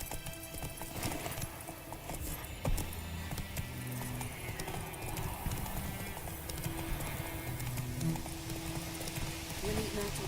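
Roach, a horse in The Witcher 3 video game, gallops with steady rhythmic hoofbeats, clear and close, mixed with game ambience and an occasional whinny while a person talks over it.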